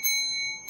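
A bell rings once with a bright sustained metallic tone that hangs briefly, then fades. It is fairly quiet and close, with no voices.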